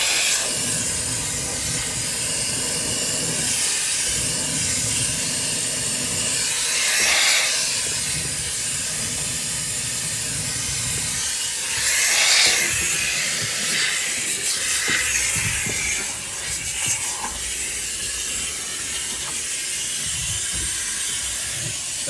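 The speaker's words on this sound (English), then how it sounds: "letting the heat of the steamer do exactly what it needs to do and just lift that material off of this" A steam cleaner hisses steadily as it lifts grime from the interior of a 1966 Chevy Impala barn find, with broadband spray noise throughout and louder surges of steam partway through. No one talks.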